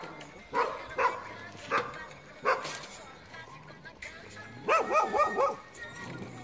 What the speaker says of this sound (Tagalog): Yung mga aso yun, nangungursurado lagi yan.